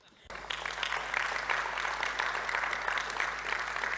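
An audience breaks into steady, dense applause that starts suddenly and continues evenly throughout, filling the room.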